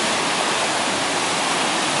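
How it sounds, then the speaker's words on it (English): The rising River Uck rushing at night on New Year's, a loud, continuous broadband roar of fast-flowing water close by, with no voices. "And the river's a little bit higher tonight."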